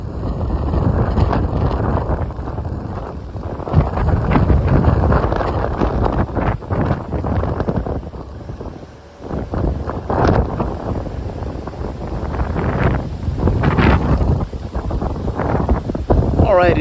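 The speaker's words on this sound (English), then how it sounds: "it is crazy windy out" Strong gusting wind outdoors in Miami buffets the microphone in a loud, continuous roar with brief lulls, while someone talks over it.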